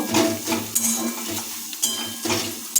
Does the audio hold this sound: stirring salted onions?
yes